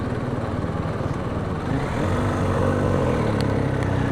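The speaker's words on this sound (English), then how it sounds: "Gert tractor coming down. Look at that for a mower, Steve." Ride-on tractor mower with a canvas cover passing close by, a loud steady rumbling engine drone that holds evenly and swells slightly as it nears, with no talking.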